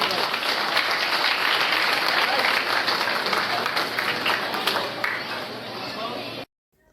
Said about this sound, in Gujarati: જોરદાર તાળીઓથી આપણે વધાવી દઈશું